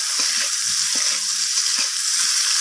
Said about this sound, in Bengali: আলুটাকে ভালো করে লালচে করে ভেজে নেব।